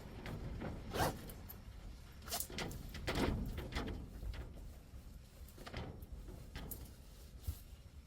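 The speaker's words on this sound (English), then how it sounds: "We just do the zipper." A zipper is drawn closed on a new leather seat cover during an interior upgrade of a 2012 Toyota Camry XLE, heard as a series of close, raspy zipping strokes with short pauses between pulls.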